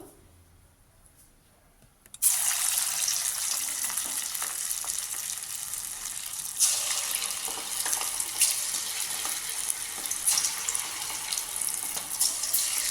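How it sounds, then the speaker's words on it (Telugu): Punukulu batter dropped into hot oil for deep frying, a South Indian snack: after a quiet start, a loud, dense, steady sizzle and crackle bursts in and continues without talk. "ఆయిల్ హీట్ అయింది. ఇప్పుడు పునుకులు వేస్తున్నాను నేను."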